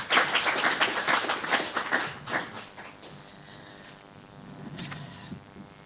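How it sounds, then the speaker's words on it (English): An audience at a fatherhood convention breaks into loud clapping that runs for a couple of seconds, then thins and fades into a quieter room. "A round of applause, ladies and gentlemen."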